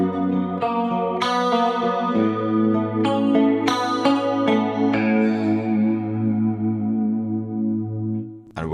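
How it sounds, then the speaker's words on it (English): Electric guitar through a Fractal Audio Axe FX III plays notes and chords with a shimmering, doubled chorus and dual detune effect, sounding wide and lush, ending on a sustained note. "with the detune and chorus engaged, it sounds like this."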